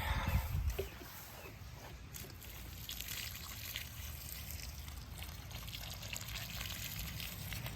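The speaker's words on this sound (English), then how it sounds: "We're gonna give it a nice drink of water." Water is poured over a newly planted blueberry bush in a garden patch, a soft, steady trickle and splash that runs throughout at a fairly faint level.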